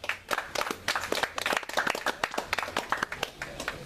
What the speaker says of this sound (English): everyone please give a warm round of applause for our guest speaker, City Council candidate Ray Denaro